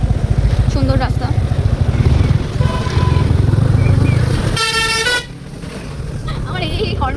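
Vehicle horns honk on a fairly open Kolkata road, a few short toots early on and then a loud, sustained horn blast close by, over a droning motorcycle engine, with a person talking over the traffic.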